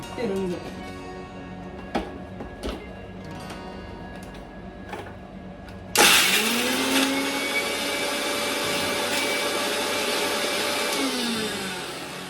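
A mixer grinder blends green chutney ingredients, a loud close motor whine that starts abruptly after a few small clicks and knocks, then runs steadily with shifting pitch as the jar churns.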